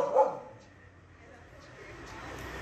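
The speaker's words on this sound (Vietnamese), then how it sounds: "nó đứng canh cổng nó sủa nè" A dog standing guard at a gate gives a single loud bark at the start, followed by quiet outdoor ambience.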